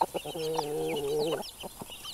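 Backyard homestead chickens clucking close by, a few short clucks followed by one long drawn-out tonal call, with no talk.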